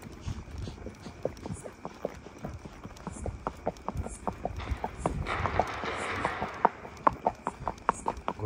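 A horse on a long night ride walks briskly, its hooves clip-clopping in a steady, even rhythm close by, with a faint rushing noise swelling midway.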